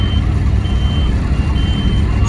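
Lorries pull out at a tractor pulling event in Brechin, Scotland, with repeated reversing beeps sounding over a loud, continuous heavy engine rumble and outdoor noise.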